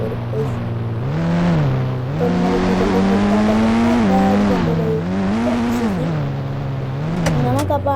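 A Lamborghini in the mobile game Indian Bike Driving 3D drones with a loud, steady synthetic engine tone that rises and falls as it accelerates and eases off, continuous throughout with a few sharp clicks near the end.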